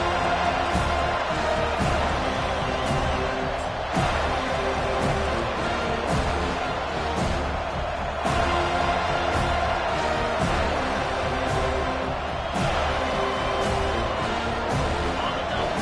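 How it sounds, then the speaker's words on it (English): A college football stadium crowd at Florida State versus Florida roars loudly and continuously, a dense wall of cheering, with a commentator's voice over the top. "This crowd bringing an ear-splitting welcome to their visitors"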